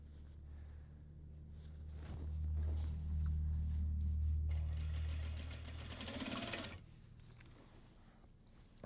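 A sewing machine stitching Japanese fabric drawstring bags, bursts of quick whirring stitches rising and falling in speed over several seconds, close and moderately quiet, with pauses between runs.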